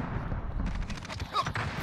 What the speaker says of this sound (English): Somebody else is shooting me.